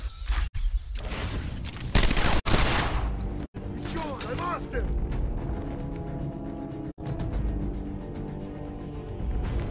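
Gunfire in the video game Batman Arkham Asylum, dense bursts of rapid shots and booms in a continuous loud barrage, with brief cuts and game effects layered in.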